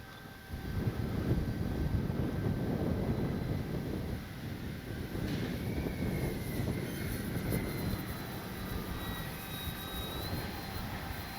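A Kavan Pulse 2200 V2 electric RC airplane drones overhead in flight, a steady engine whine rising and easing as it passes, fairly faint, with wind buffeting the microphone.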